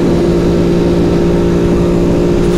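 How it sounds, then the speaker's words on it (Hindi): A Ducati motorcycle engine held at full throttle while the broken-down bike fails to accelerate drones loudly and close, a steady, unchanging hum with no rise in pitch. "मैं फुल थ्रॉटल पे हूँ और बाइक एक्सीलरेट ही नहीं कर रही"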